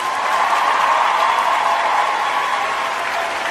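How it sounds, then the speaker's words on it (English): A crowd gives a round of applause, a steady even wash of clapping that stays at one level for the whole stretch with no voices on top. "Round of applause, everyone."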